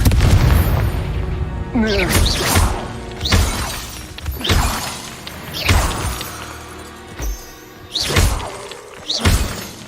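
Confringo blasting spells in Hogwarts Legacy go off as a run of booming bursts with shattering crashes, several loud impacts spread through the clip, mixed with game sounds and brief talk.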